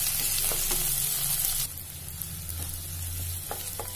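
Shallots sautéing in hot oil in a pan for a Tamil puli kulambu, a steady close sizzle and crackle with a few stirring clicks, the frying hiss dropping slightly partway through.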